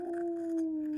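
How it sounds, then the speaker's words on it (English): A dog in the video game Kingdom Come Deliverance gives a steady, sustained howl, loud and close, holding one pitch for about a second with no talk over it. "Oh my god, the dog."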